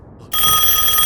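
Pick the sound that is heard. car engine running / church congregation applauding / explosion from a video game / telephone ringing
telephone ringing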